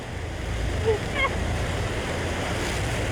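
Lake swell and surf wash continuously against a tour boat near Niagara Falls, a steady low roar with wind buffeting the microphone and a couple of brief faint voice-like cries in the middle.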